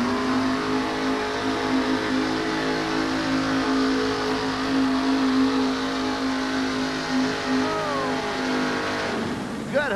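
Pumpkin, a monster truck pulling at a 1988 USHRA event in Albany, holds a loud, steady high-revving engine drone for nearly the whole stretch, then cuts off abruptly at the end.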